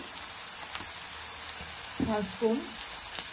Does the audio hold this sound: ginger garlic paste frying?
yes